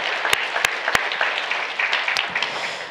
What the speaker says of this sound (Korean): 그렇게 해주신 하나님께 영광의 박수 올리겠습니다.